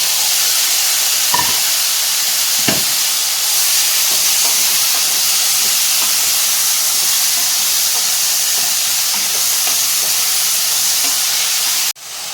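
Continuous loud hissing sizzle of chopped tomatoes frying in a pan, steady throughout with a couple of brief clinks, then cutting off abruptly.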